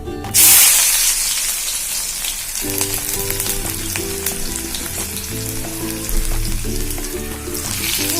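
Chopped ginger and garlic hit hot oil in a pan for Assamese chilli chicken, giving a loud initial burst of sizzling that settles into steady close frying, with faint utensil sounds.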